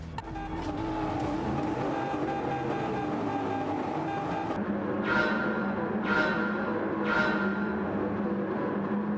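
Race cars starting a race in Gran Turismo 7, a loud continuous engine roar from a pack of cars with revving pulses rising and fading as they pull away.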